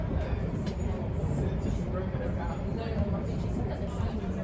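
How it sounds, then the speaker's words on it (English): A London Overground train on the Gospel Oak to Barking Line runs with a steady, loud rumble and rolling carriage noise throughout, with a faint background babble of voices. "So we're getting this Gospel Oak to Barking Line train to South Tottenham"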